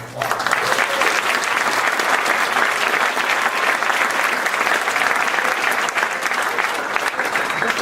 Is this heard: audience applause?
yes